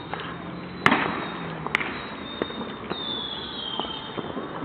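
Sharp firecracker and firework bangs pop irregularly on New Year's at Hauptbahnhof, a couple of loud cracks followed by smaller distant pops over steady outdoor noise.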